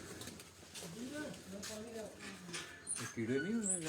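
Pigeons coo softly on a rooftop, a few low rounded calls rising and falling under a man's close, steady talking.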